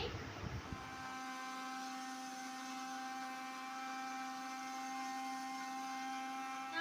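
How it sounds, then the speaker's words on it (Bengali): After a brief clatter, a blender blending a roasted raw mango drink whirs up to a steady, high-pitched motorized hum that holds evenly to the end. "এবারে আমি এটাকে ব্লেন্ডারে ব্লেন্ড করে নেব"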